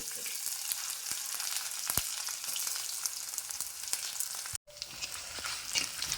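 Sliced shallots, four dried red chilies and curry leaves fry in hot oil for an ash gourd curry, giving a steady close sizzle with scattered sharp crackles and a brief dip in the sound midway, with no talking.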